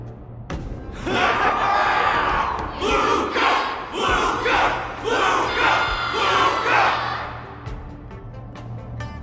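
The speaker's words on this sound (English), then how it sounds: "Everyone's cheering for you, Luca!" A crowd roars and cheers in waves for the fighter Luca in the game Honkai: Star Rail, loud, rhythmic swells of shouting voices rising and falling several times, with thuds and a sharp hit at the start.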